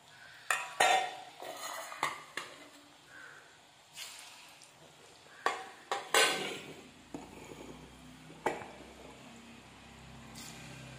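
Murukku dough frying in oil in an iron pan, heard as faint bubbling under repeated metallic clinks and scrapes of utensils against the pan, in uneven bursts.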